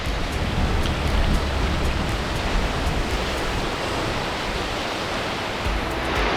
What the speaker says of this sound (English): that wind is coming in, that fog is coming in, it's going to get chilly